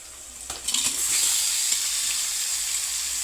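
Fish pieces coated in turmeric, salt and chili powder drop into hot oil in a pan and settle into a loud, steady sizzle that fills the clip, close up and with no voices.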